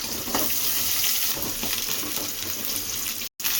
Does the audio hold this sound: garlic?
yes